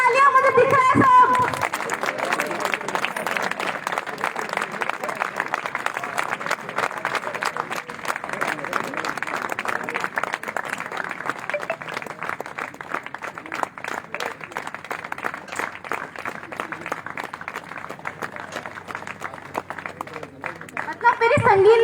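An audience at a depot grand opening celebration keeps up loud, sustained clapping that runs for about twenty seconds without a break, with crowd chatter mixed in and a voice briefly audible at the start and end.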